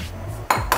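Fried noodles are tossed in a pan, producing two sharp metallic clinks of utensil on pan a moment apart after a soft low rumble.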